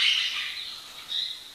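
Small birds calling inside an aviary at an avian propagation facility, with thin, high, hissy chirps that swell at the start and again near the end, fairly close and with no voices.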